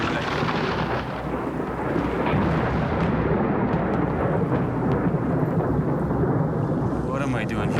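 Heavy thunder rumbles loud and continuous through a storm over gator-infested water, with rain mixed in, a sustained low roar without talk.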